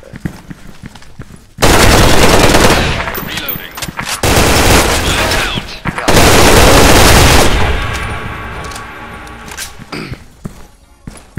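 AK rifle fire rattles through a video game clan war match in long, loud automatic bursts with brief pauses between them. Players talk over the bursts.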